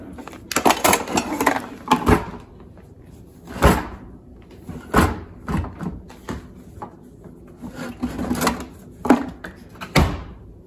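Drawer being opened, a string of sharp wooden knocks, slides and clunks scattered unevenly, close and fairly loud, with no voices.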